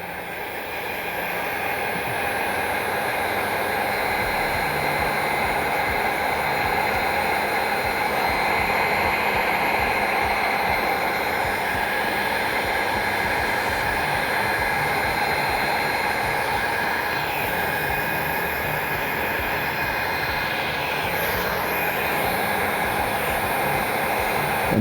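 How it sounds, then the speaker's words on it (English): A heat gun blows steadily and loudly for the whole stretch, a constant airy roar with a faint high whine and no pauses or talk. "Then we take the heat gun again,"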